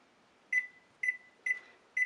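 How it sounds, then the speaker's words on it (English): Kitchen timer being set while baking cornbread, four short sharp electronic beeps spaced about half a second apart, close and clear with no talk. "set a timer so I don't forget"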